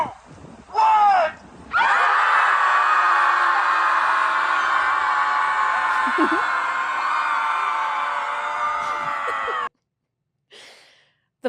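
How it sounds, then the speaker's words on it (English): A group of people screams together into the night by a lake, one long sustained, loud shared yell lasting several seconds before cutting off, with a few scattered shouts before and after. "Screaming into the ether is not a hobby."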